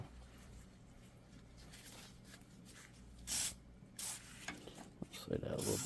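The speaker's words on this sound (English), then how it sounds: "we're going to spray some WD on that" WD-40 is sprayed onto a universal joint on a Jeep Wrangler front axle: several short hissing aerosol bursts, close, over a low workshop background.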